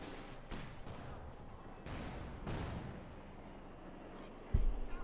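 A 6-pounder anti-tank gun fires at an advancing Panzer IV in the strategy game Company of Heroes 2, a few muffled booms and one sharp louder shot near the end, amid a dense layer of distant battle noise and talk.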